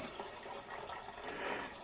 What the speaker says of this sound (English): So I'm going to go ahead and add in a little bit of our remaining water